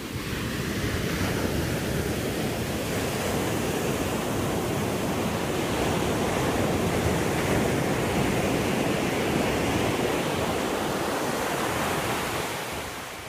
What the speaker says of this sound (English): And there you go, some peaceful waves.